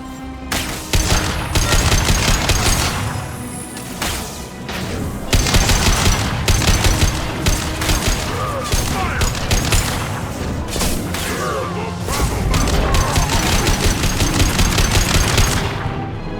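Sustained video-game gunfire from Mass Effect 2: dense bursts of automatic fire and heavy shots roll almost continuously for about sixteen seconds, loud and close, with brief lulls between volleys.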